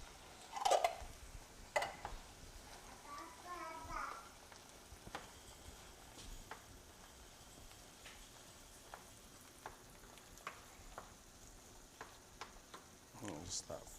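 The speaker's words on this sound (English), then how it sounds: "Just let that fry together for a minute" Green chili frying in a pot, a steady bubbling sizzle with scattered pops and occasional stirring clinks, under brief, faint talk near the start.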